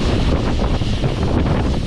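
Strong wind buffets a microphone along a canal-side route in northern Spain, making a loud, continuous rumbling roar with no voices.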